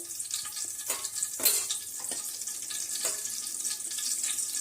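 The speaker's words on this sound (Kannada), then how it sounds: "ಇವು ಚಂದಾಗೆ ಸ್ವಲ್ಪ ಫ್ರೈ ಮಾಡ್ಕೋಬೇಕ್ರಿ" Whole spices (cinnamon, cardamom and black peppercorns) fry in hot oil for gobhi matar sabji, giving a steady bright sizzle with occasional louder spitting bursts, close and alone without talk.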